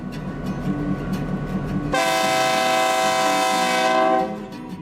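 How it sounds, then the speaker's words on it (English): An FP9 diesel locomotive horn on the Texas State Railroad, loud and close, blares for about two seconds over low engine rumble at the station, then cuts off as the idling continues. "125 sounds off the horn to signal to its passengers that the trip is about to begin"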